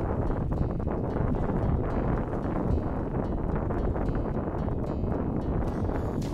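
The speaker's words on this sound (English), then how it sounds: "The wind is starting to pick up now" Steady wind at the shore of Lake Berryessa buffets the microphone, a constant loud broadband rumble and rush with no pauses.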